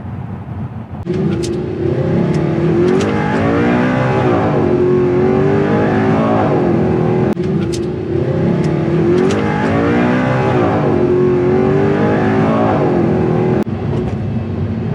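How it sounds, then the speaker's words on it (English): A 2009 Audi R8 V8 driving on rough textured roads in East Texas, its engine droning loud and close with rising and falling revs through gear changes. "driving it through town, driving it down rough textured roads here in East Texas, has not been a problem"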